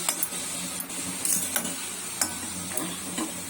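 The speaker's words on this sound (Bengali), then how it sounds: "এতে মূলো শাক ভাজা হচ্ছে" Radish greens fry in a new iron wok with a continuous sizzle, broken by sharp scraping clicks as a spatula stirs and knocks against the metal, close and steady with no talk.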